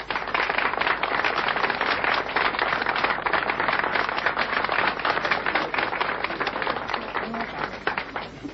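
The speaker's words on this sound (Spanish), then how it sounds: "Un aplauso para nuestro Señor Jesucristo." An audience at a humor event applauds, dense rapid clapping that fills the room steadily for several seconds, sounding somewhat bright and close.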